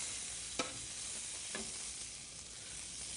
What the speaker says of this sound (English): now that we got the nice little sear on those guys, I'm going to pull these off. I'm going to put these in the pan